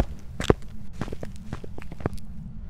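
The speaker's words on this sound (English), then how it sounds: "It's the loudest footsteps you've ever heard." Heavy ghost footsteps in the horror game Phasmophobia, a string of distinct thudding steps at an uneven pace, one especially sharp near the start, with no talking over them.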